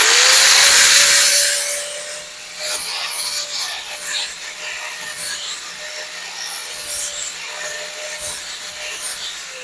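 A flap wheel grinds stainless steel in a fabrication shop, a loud, sustained abrasive rush with a faint steady motor whine running underneath throughout.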